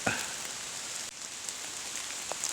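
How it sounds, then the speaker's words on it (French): Steady rain pattering through a forest during a mushroom hunt for porcini, a continuous close hiss of drops on leaves with a few louder individual drips, no voices. "Il pleut toujours."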